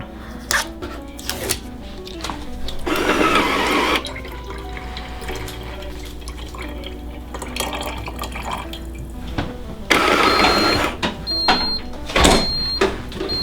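A Ninja Hot and Cold Brewed coffee system brewing cold coffee: intermittent drips and trickles of liquid with louder bursts of gurgling flow, close and fairly quiet, with no talking.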